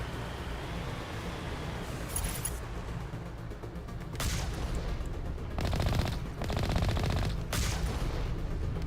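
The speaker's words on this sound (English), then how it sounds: "I love how accurate these stupid main cannons are at long range." Main cannons firing in the Mass Effect video game, a dense roll of rapid, punchy game gunfire blasts that surge louder in bursts over a steady rumbling bed.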